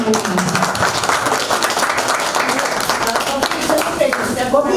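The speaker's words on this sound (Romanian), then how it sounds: "Haideți să-i aplaudăm" An audience at a school reunion gathering claps in a dense, continuous patter of applause, mixed with talk over the top.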